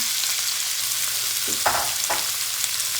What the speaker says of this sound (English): into the pan goes my shrimp